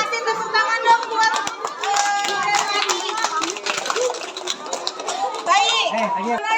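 A room of schoolchildren at an Indonesian primary school literacy event clapping together, dense and loud, with chatter and children's voices mixed in throughout.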